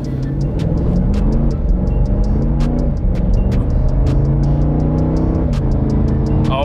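A Jeep accelerates hard from a standstill, its engine note rising in steady, loud stepped harmonics throughout, with a regular ticking pattern running over the top.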